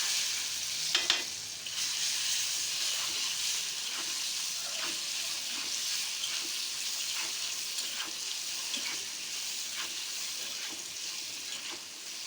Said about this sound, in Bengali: আমি কিভাবে ডিমটা লাল করবো এখানে, এইভাবে লাল করি।